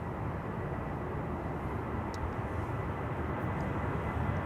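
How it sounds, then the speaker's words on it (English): KLM Boeing 737-800 departing Amsterdam Schiphol for Milan, heard as a steady broad jet engine roar, even and moderately loud throughout, with no voices. "This is KLM flight 1597 to Milan, 737-800."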